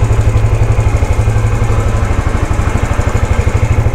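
A Yamaha YBR 125 motorcycle with an upgraded Mio LHK stage 1 5.5mm camshaft runs loud and close, its engine chugging in a fast, steady pulse with no talking.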